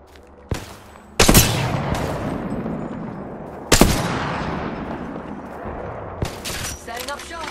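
Gunfire in the video game Apex Legends comes as sharp, loud shots, two of them followed by bursts of rapid fire that ring out and fade, with game voices heard between.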